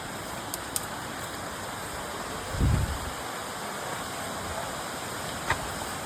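A small waterfall beside the Vyaghreshwar temple at Kasmal near Pen gives a steady, continuous rush of falling water that fills the whole clip, with one brief louder thump partway through and no talking.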